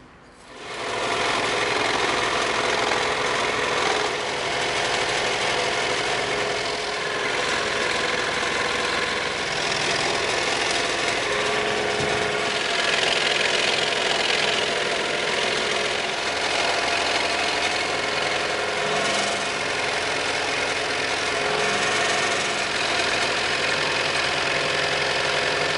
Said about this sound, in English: we're going to move over to the scroll saw now, and we're going to cut this out